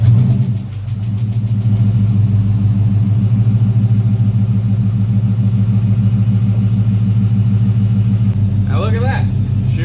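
A repaired car engine, recently caught on fire and fixed with coolant topped off and battery reconnected, runs at a steady, loud idle rumble throughout, close by, with a brief voice near the end.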